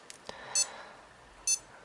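Two short, high electronic beeps from a Garmin Forerunner 10 running watch, evenly spaced about a second apart, with faint clicks of button presses just before them in a quiet room.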